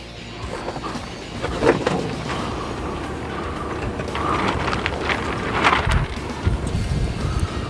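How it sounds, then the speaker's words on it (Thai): Strong wind buffets the microphone at an outdoor rifle shooting range, a steady rumbling roar that runs through the whole stretch and swells in gusts about midway and near the end. "ลมค่อนข้างแรงครับวันนี้"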